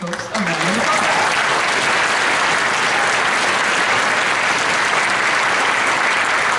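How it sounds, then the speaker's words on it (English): Audience at a high school orchestra spring concert breaks into sustained, dense applause that stays loud and steady throughout, with a brief voice at the very start. "We could give these folks a round of applause."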